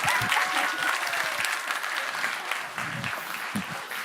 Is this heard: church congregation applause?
yes